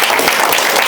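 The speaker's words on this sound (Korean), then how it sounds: "더 없으면 소리 학생에게 격려의 박수 한번 드립니다" Brief burst of steady applause from a school audience encouraging a 10th-grade student after a research topic presentation, dense and even throughout.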